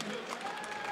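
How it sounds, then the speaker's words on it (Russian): Audience applause after an MMA fight, a dense hiss of clapping from a crowd throughout this short moment, fairly faint, with a voice talking over it. "Очень громко аплодируем"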